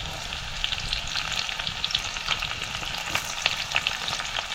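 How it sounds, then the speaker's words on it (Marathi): Crushed garlic and green chili frying in hot oil for a Konkan monsoon wild-vegetable dish, a steady close sizzle with crackling pops and light stirring, no voices. "तेल तापलं की आता आपल्याला ह्याच्यात लसूण टाकायची आहे."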